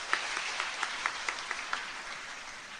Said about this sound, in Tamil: ஒரு நல்ல கைத்தட்டலோடு